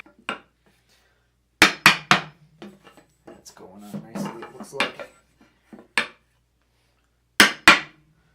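A hammer strikes a hardwood block to seat the crown race on a RockShox Recon Solo Air mountain bike fork, giving sharp, loud knocks in quick pairs and singles with short gaps. Someone speaks briefly between the blows.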